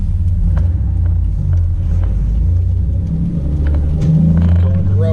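An upgraded Jeep rumbling down the road, its exhaust giving a deep, steady, close-up drone with faint road noise and a slight swell near the end.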